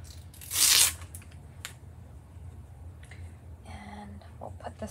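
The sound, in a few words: peeling the backing off a Chalk Couture transfer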